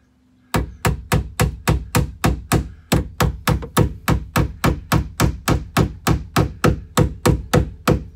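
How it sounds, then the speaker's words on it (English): Steady, evenly spaced hammer blows ring out inside an RV, about two or three per second, loud and close in the small enclosed space, with no talking. "You always want to be careful hammering inside of these things too"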